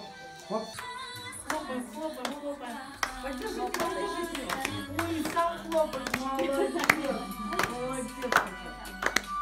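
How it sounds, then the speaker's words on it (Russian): A child at a rehabilitation trainer for children with cerebral palsy claps hands, several sharp, irregular claps close by, with adult voices speaking over and between them. "Хлопай."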